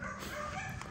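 Puppies from a litter of dogs for sale whimper and yip softly in a short burst of small whining calls, close by and fairly quiet.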